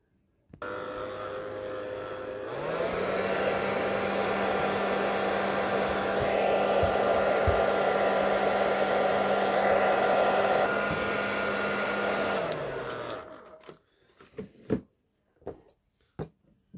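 A hair dryer blasts steadily on a shoe's glued double lining, a loud continuous whir lasting around ten seconds before it spins down and stops.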